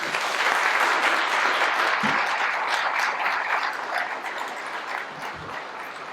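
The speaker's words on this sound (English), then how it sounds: "Let's give them a round of applause" A crowd at a political forum applauds in a dense, steady wash of clapping that gradually fades toward the end, with no one speaking over it.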